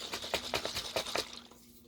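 Rapid, rhythmic sloshing and rattling as water is shaken hard inside a sauce jar up close, lasting about a second and a half before stopping.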